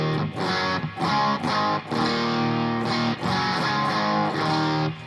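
Electric guitar played through a Joyo Bantamp amplifier with the treble turned all the way up, giving bright, distorted chords in loud, rhythmic strums with short gaps between phrases and no talking.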